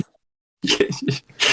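A single sneeze after a moment of silence, close and fairly loud, followed by a brief burst of nearby voices.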